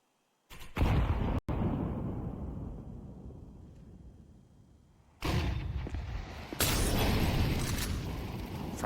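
A frag grenade in Counter-Strike gives a sudden heavy blast, with further booming explosions and gunfire rumbling in loud bursts separated by a quieter fading stretch.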